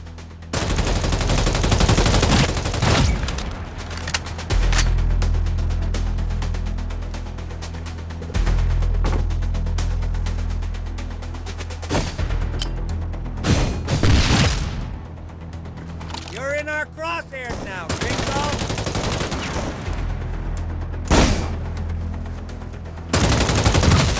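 Gunfire in the mobile game City of Outlaws, loud repeated bursts and shots over a steady low game rumble, with spoken game dialogue in places.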